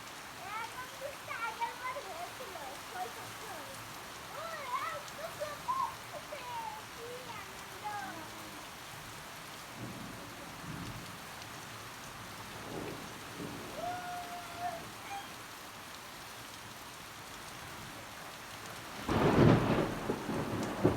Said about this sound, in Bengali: সেই পরিমাণে কিন্তু মেঘ ডাকছে